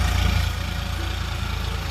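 A farm tractor engine runs steadily nearby, a loud low rumble with a regular throbbing pulse that holds at a constant idle-like pace throughout, with no talking.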